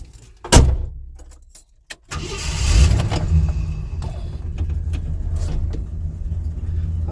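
A truck engine starts with a sharp crank and catch, then settles into a steady, close rumbling idle. A jangle of keys and a door clunk come just before it, outdoors at a caravan.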